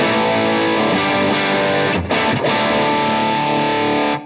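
An electric guitar played through a small transistor mini amp with overdrive engaged rings out as thick, distorted sustained chords, loud and continuous, with two brief gaps where the strings are muted before the chord returns.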